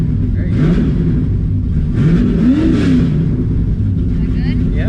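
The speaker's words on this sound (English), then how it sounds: "Can you rev a little bit?" Nitrous-equipped Ford Mustang engine giving a few rising revs over a steady rumbling idle, close by, with people talking over it.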